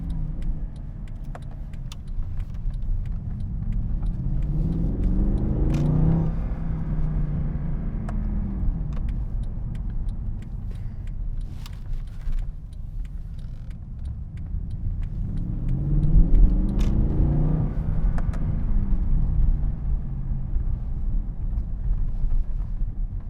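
A 2012 Mercedes-Benz C63 AMG engine hums steadily while driving, with wind and road rumble, swelling twice as it revs up through gears.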